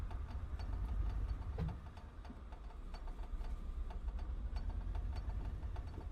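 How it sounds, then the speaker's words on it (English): A de Havilland DHC-2 Beaver propeller engine in Microsoft Flight Simulator 2020 idles and rumbles while taxiing, with a steady ticking pulse, fairly quiet and even, no voices. "I really like how this engine sounds in this plane."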